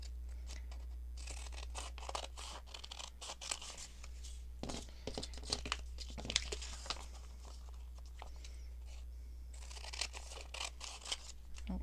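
Scissors snip and slice through paper close up in repeated cutting strokes, cutting envelope pockets for a junk journal, with rustling and crinkling of paper between cuts over a steady low hum.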